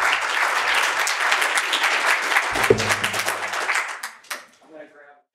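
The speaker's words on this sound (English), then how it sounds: "give me a round of applause" Loud, dense audience applause greets a speaker coming on stage at an SEO business talk, sustained for about four seconds before tapering off into a short spoken line.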